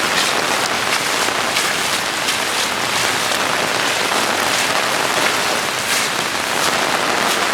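Heavy rain from Tropical Storm Fay pours steadily and loudly, a dense continuous hiss of drops drumming on surfaces with no pauses and no voices.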